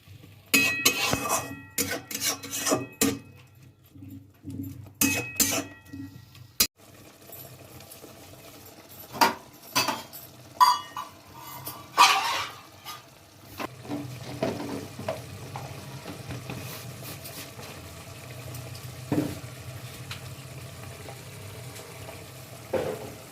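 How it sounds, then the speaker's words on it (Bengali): Spice masala of chili, cumin and coriander powders with a splash of water sautéed in a pan for dhaba-style egg curry, giving bursts of sizzling and frying with intermittent stirring scrapes, loud at first and then steadier. "এই মশলাটা আমি একটু ভালো করে কষে নেব।"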